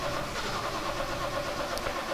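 A 1970 Triumph TR6 engine that is hard to start, heard running at a steady mid-pitched idle nearby, with a constant, slightly rough drone throughout.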